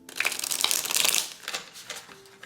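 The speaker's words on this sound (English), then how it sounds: "Let me shuffle one more time." Tarot cards are shuffled close up in a quick burst of riffling and rustling that then tapers into a few softer shuffles.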